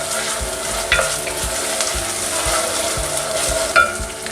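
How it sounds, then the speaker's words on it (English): Onion frying in a pan with a garlic and pepper mix for peanut soup, a steady close sizzle with regular stirring scrapes throughout and a couple of louder clatters of the utensil. "I'm going to be adding my garlic and pepper mix and then frying it for a little bit."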